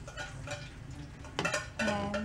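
A bowl stuck inside a cooking pot is handled, giving a few close metallic clanks and scrapes of cookware, with quieter handling noise between.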